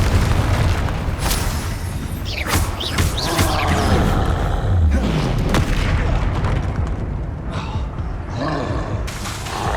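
Repeated magical blasting explosions from Confringo spells in Hogwarts Legacy on PS5, booming bursts and roaring impacts layered through continuous loud combat effects, with brief vocal bits.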